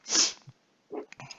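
A single loud, sharp sneeze bursts out up close, followed by a quieter breathy catch and small mouth sounds in an otherwise quiet room.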